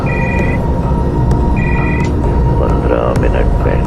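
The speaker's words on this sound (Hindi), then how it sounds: "ठीक 15 मिनट के बाद मेरा फोन फिर से बजा" A phone rings twice in short electronic trills over a loud, constant rumbling background, with a faint warbling tone near the end.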